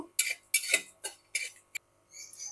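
Whole coriander and cumin seeds being stirred in a cooking pan on low heat, giving a handful of short scraping clinks of a utensil against the pan, fairly close, with a gap and a softer rustle at the end.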